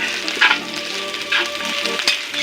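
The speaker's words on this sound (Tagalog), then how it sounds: "So, we have to wait nga mag-golden brown siya ang ating bawang." Chopped garlic sautéing in a little oil, a loud, close crackling sizzle with brief bursts of spattering, no voices.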